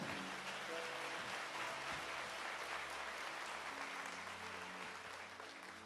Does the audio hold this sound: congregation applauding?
yes